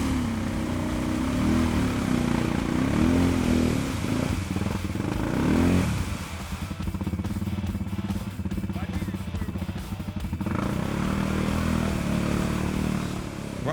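Sharmax QJ Motors Force 800 ATV pushing through a deep swampy puddle, its engine droning and revving steadily while water sloshes and mud clatters around it, loud and close.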